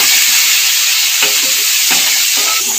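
Chopped tomatoes frying with browned onions in a pan for a Bengali kalbose fish curry, a loud, constant sizzle broken by several distinct spatula stirs and scrapes.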